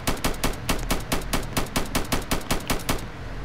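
Rapid automatic gunfire from the Roblox-style shooter game Strucid, a steady burst of about fourteen sharp evenly spaced shots over three seconds, loud and close with no talking.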